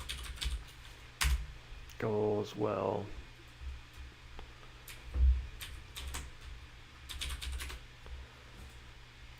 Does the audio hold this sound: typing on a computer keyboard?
yes